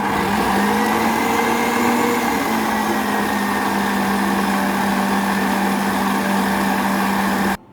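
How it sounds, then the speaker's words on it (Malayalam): Electric hand mixer whirring through watermelon cake batter, a loud close steady motor whine that holds one pitch, dips briefly near the start, then cuts off abruptly at the end. "ഇനി ഇതൊന്ന് നമുക്ക് നന്നായിട്ട് മിക്സ് ചെയ്തെടുക്കാം."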